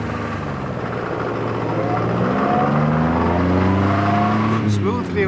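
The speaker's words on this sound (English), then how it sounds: "Smoothly away in second speed, up through third into top." A 1930 Austin car pulls away and accelerates smoothly through second and third gears into top. The engine note is loud and close and climbs steadily, with someone talking over it.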